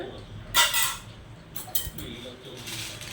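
Ceramic plates clink and knock together as they are handled, a couple of short bright clatters over a quiet room with faint background talk.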